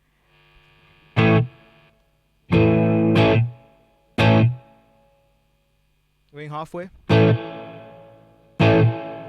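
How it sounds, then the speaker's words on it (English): Boss Katana 100 combo guitar amp set to its spring reverb, with distorted guitar chords struck in short separate bursts, each ringing briefly into a short reverb tail, with a brief spoken phrase between them. "When you switch it to the red, it becomes a spring reverb."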